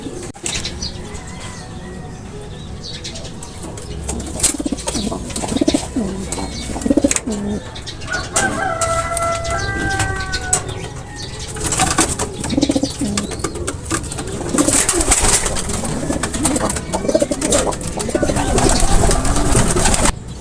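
Pigeons in a loft, with steady soft cooing and bursts of wing flapping, close and loud, plus occasional chirps and a busy ambient bustle throughout, no talk.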